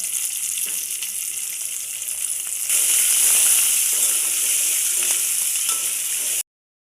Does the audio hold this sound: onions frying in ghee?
yes